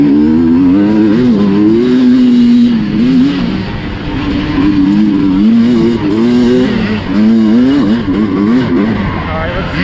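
A Sherco SC250 two-stroke cross-country motorcycle lugs slowly in third gear, its buzzing engine note wavering up and down as the throttle shifts, close and loud under a rider's talk.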